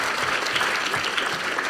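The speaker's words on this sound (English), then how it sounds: "please give a round of applause." An audience at a conference session on climate change in Indonesia claps steadily, a dense burst of applause filling the short moment with no voices over it.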